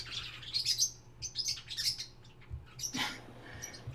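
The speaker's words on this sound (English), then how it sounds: "you guys hear my birds in the background" Pet birds chirp and tweet in repeated bursts of high, bright calls, moderately close in a room, with short pauses between phrases and a faint low hum underneath.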